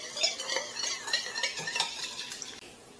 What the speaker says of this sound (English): we're just going to give that a mix till it's nice, all the sugar and the salt have dissolved into the rice vinegar